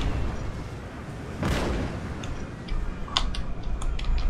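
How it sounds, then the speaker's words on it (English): A heavy howitzer boom bursts out and rolls away in the video game Napoleon: Total War, followed by scattered smaller impacts and clicks over a continuous battle rumble. "Here come the howitzers, which will make most of the difference."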